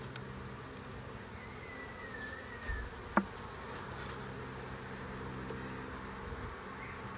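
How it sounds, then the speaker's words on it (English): A small queenless swarm of honey bees buzzes in a low, steady hum inside a hive box, with a faint single bee passing and a brief click; no one talks. "We've got a queenless swarm of bees, and it's not very plentiful."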